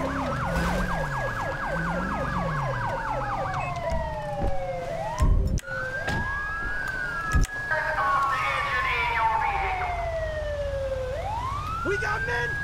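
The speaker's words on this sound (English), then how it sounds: "They're using the Federal Signal Smart Siren, guys." A Federal Signal police siren in the Grand Theft Auto V police mod wails loudly, sweeping up and down while switching between patterns, with other sirens overlapping and a couple of sharp bangs partway through.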